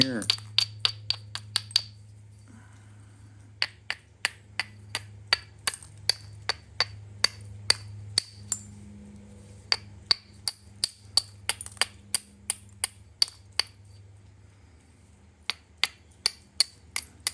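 Stone knapping with natural hammer tools, taking small short flakes: a long series of sharp, crisp clicking strikes, sometimes in quick bursts and sometimes spaced out, close by over a low steady hum.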